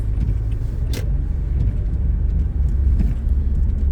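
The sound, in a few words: car pulling away after releasing parking brake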